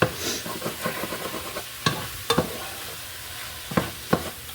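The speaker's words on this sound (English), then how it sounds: "we're going to give this a stir" Vegetables for spaghetti sauce sizzle and sweat down in a pan while a utensil stirs them, with a steady frying hiss broken by several sharp scraping knocks against the pan, close and fairly loud.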